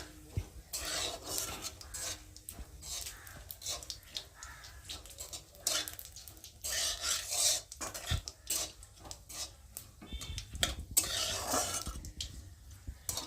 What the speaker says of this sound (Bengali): দেবো তেজপাতা, আর দেবো গোটা জিরে। ফোড়নটা একটু ভালো করে ভেজে নেব।